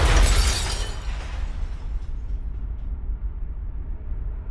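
A car slams into a large truck, a loud shattering crash of breaking glass and metal at the start that fades into a long, dwindling rumble and scattered debris.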